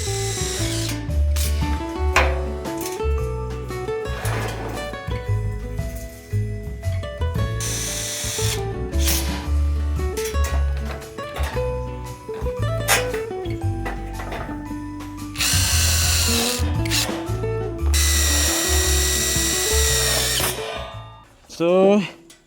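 A power drill repeatedly drives screws into metal channel while building a parcel box, with bursts of whirring rising in pitch, ratcheting clicks and metallic knocks between, and someone talking intermittently.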